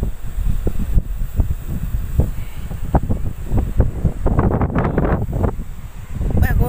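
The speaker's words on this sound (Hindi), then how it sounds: "तो तेज हवाएं चल रही हैं" Strong storm wind gusting hard in Rajasthan, a steady loud roar with rustling bursts and buffeting against the microphone throughout, no speech.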